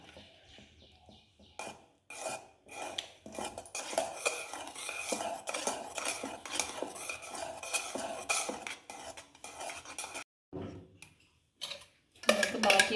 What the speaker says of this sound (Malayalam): മാംഗോ പ്യൂരി ആഡ് ചെയ്ത് കൊടുക്കാം. അങ്ങനെ കുറേശ്ശെ എടുത്തിട്ട് മിക്സ് ചെയ്യണം.